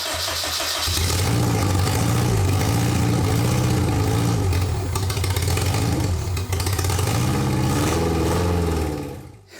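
An MK Indy RX-5 kit car with a V-TEC engine catches on its first start and runs loud and close, revving up and down in several rising and falling sweeps before cutting off.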